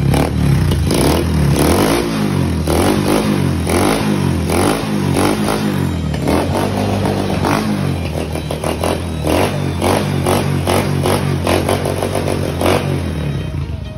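A loud motorcycle engine with a leaking exhaust revs repeatedly with a raspy, popping exhaust, throttle blips rising and falling steadily throughout, close to the microphone.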